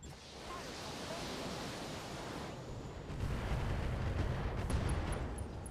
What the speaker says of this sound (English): AC-5 ammo explosion, very nice.